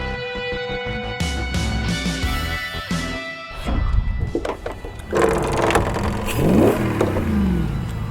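A custom Jeep Wrangler JL fitted with a 6.4 liter SRT Hemi V8 revs loudly up close, with sharp throttle blips and rising engine surges that swell near the end, no talking.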